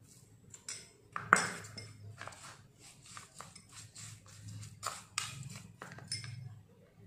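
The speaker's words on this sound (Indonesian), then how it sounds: "diaduk-aduk sampai bahannya teraduk rata" A metal spoon stirs sugar into a homemade skincare mixture in a small dish, giving light irregular clinks and scrapes, with one sharper ping near the start, close and fairly quiet against a low background hum.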